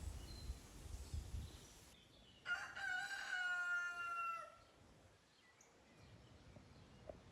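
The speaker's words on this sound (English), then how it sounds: "So we have a rooster." One long rooster crow rings out clearly and close by, lasting a couple of seconds, followed by quiet outdoor ambience.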